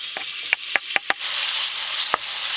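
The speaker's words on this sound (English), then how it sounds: "fry up the chicken, fry up the chorizo" Chicken and chorizo frying in a pan inside a small campervan, giving a steady close sizzle with several sharp clinks of a utensil against the pan.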